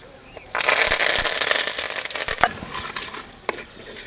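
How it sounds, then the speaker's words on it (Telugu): Chana dal, urad dal, mustard seeds, cumin, asafoetida and curry leaves dropped into hot oil for a tempering, a sudden loud burst of crackling and sizzling that keeps popping, then gradually settles. "నూనె వేడెక్కగానే శనగపప్పు పుట్టమినపప్పు వేసుకుందాం ఇది ఒక్కసారి అలా కలుపుకొని ఆవాలు జీలకర్ర ఇంగువ కరివేపాకు వేసుకొని కలుపుకుందాం"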